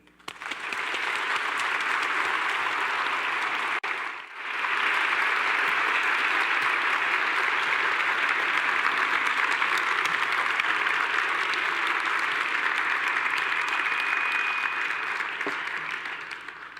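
An audience gives a long, loud, continuous round of applause welcoming artist El Anatsui to the stage, with a brief dip partway through before the clapping swells again.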